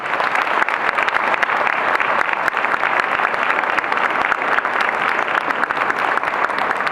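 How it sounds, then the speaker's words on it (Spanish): An audience applauds Dr. Fernando Quintanar at a book presentation. Dense, steady clapping from a crowd fills the whole stretch at an even level without fading. "Le damos un aplauso al doctor Quintanar."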